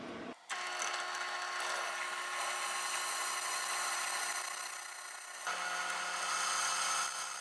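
A drill whines steadily as a step bit bites into material in a knife shop, its pitch shifting partway through, loud and close with no talking.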